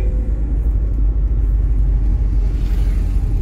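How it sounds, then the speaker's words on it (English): A restored 1972 Premier President, a Fiat-based car, drives past with a steady low engine rumble and road noise, loud and close throughout. "By the way, that's how you drive a Fiat."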